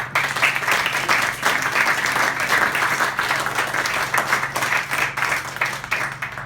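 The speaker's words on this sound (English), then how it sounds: "we should have an extra round of applause for Montrose for supporting the local cricket" Sustained round of applause from a seated crowd at a charity tea held by a local cricket club, dense steady clapping for several seconds with a faint steady hum beneath.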